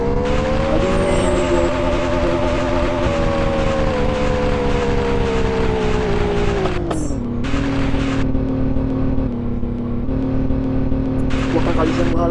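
Motorbike engine in the video game Moto Wheelie 3D, a steady loud drone that rises and falls in pitch with gear changes, with a brief dip and cut partway through.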